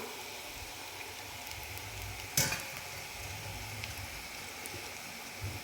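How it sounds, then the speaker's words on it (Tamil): Snack deep-frying in oil over low heat gives a steady, close hiss of bubbling, broken by one sharp clatter midway, with no talking. "கொஞ்சம் கரகரன் நல்லா கரகரன் பொறிச்சு எடுக்கலாம்"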